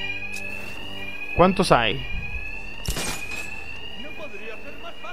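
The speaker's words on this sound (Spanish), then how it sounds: "El ruido de la alarma cubrirá mis ataques." An alarm rings in the Batman: Arkham Knight video game as a steady, continuous high-pitched tone throughout, while voices speak over it.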